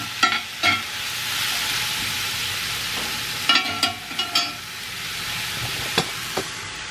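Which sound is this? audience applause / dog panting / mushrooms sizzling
mushrooms sizzling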